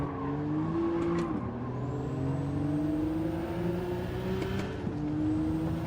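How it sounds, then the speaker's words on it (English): A race car in a racing video game brakes into a corner, its engine note sliding and shifting as it slows, loud and continuous for several seconds with no talk. "Trying to get the car to slow down into the corner."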